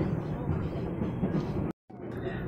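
KRL commuter train pulling out of Serpong station, a steady rumbling rail noise with a brief cut of silence near the end.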